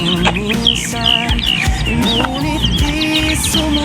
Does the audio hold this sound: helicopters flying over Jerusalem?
no